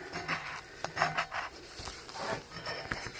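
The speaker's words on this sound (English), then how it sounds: "get the spatula out and start scraping" A spatula scrapes layered old paint off a BMX bike frame, giving irregular rasping strokes with short gritty bursts, close and moderately loud, with no talking.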